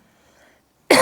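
A single sharp cough bursts out abruptly after near silence, loud and close.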